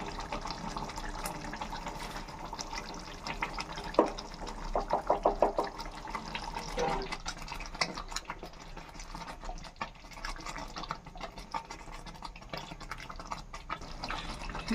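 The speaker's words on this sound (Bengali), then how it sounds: "এবার আমি একটু অল্প করে ঘি দেবো" Ghee poured into a hot pan while cooking katla kalia, a Bengali carp curry: a short soft pouring and sizzling burst with a few drips, over a steady kitchen background.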